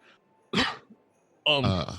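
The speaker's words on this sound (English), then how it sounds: "I'll actually give kind of a cough" During a tabletop role-playing session, a short, forceful cough burst is followed after a pause by a voiced, throaty sound, close and loud against near silence.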